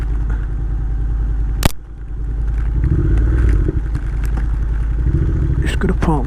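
Motorcycle engine drones steadily while riding on a road trip from Denmark toward Sweden and Norway, loud and continuous, with wind and a brief sharp clack near the middle.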